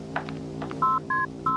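A telephone is dialed with a few soft clicks and then three short, clear touch-tone beeps at an even pace, close and distinct over a low hum.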